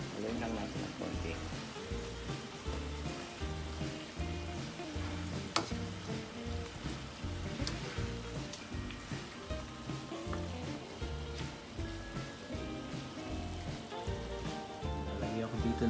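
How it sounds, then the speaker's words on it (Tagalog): Soy sauce and vinegar bubbling at a rolling boil in a pan, with a continuous crackling simmer and sizzle heard steadily throughout. "Tapos ngayon kulong-kulo na"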